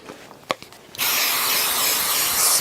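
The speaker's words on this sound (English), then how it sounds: "spray some adhesive" Adhesive sprayed from a can onto quilt backing fabric: a few faint clicks and taps, then a loud, steady close-up hiss that runs continuously for the last second and a half.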